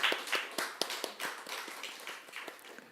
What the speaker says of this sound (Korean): 우리 하나님께 박수 영광을 돌리겠습니다